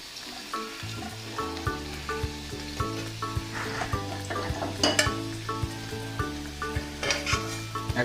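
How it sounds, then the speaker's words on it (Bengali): Potatoes fried in oil until reddish, a close, steady sizzle with repeated metallic stirring scrapes and clinks, and a faint tune playing underneath. "দেখুন আলুগুলোকে লাল করে বেশ ভেজে নিয়েছি"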